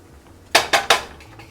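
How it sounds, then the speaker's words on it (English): A utensil stirs garlic into a pan of chicken piccata resting on residual heat with the burner off, giving three quick, close, loud metallic clanks against the pan, then fainter taps. "And we're just gonna mix the garlic in."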